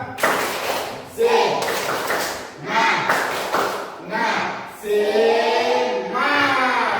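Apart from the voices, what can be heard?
class rhythmic clapping icebreaker, tepuk semangat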